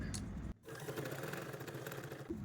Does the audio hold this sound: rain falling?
no